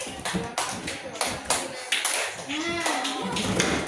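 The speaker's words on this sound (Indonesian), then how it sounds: "Tepuk dua kali kanan." A class of children clap their hands in a rhythm game, sharp claps in groups recurring through the clip under a teacher's voice giving instructions.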